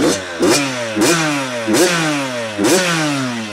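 A Yamaha YZ85 two-stroke dirt bike engine revs in four sharp blips, each snapping up to a high buzzing whine and falling away, loud and close with no talking.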